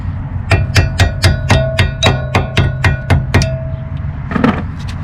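Hammer tapping a front strut assembly into place on a 2007-2011 Nissan Versa: about a dozen evenly spaced, ringing metallic blows in quick succession, close and loud, followed by a final duller knock.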